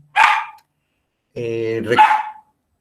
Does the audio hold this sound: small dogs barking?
yes